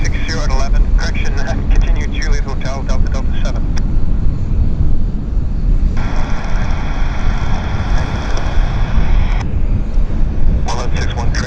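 Broad, steady roar of jet aircraft at Vancouver YVR airport, sustained throughout at high level, with radio voices and talk heard over it.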